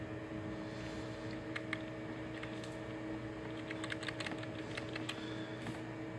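Keys on a computer keyboard tapped in brief, scattered bursts while controlling a single-axis CNC barrel machine, sitting over a steady loud hum of machinery with layered tonal drones throughout.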